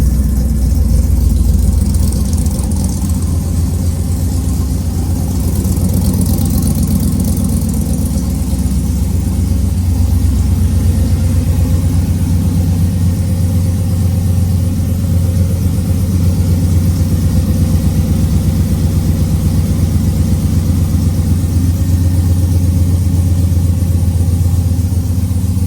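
A car engine idles steadily for about twenty-five seconds, a loud, continuous low rumble close by with no voices.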